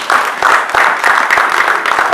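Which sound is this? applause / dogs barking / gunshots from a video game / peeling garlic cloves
applause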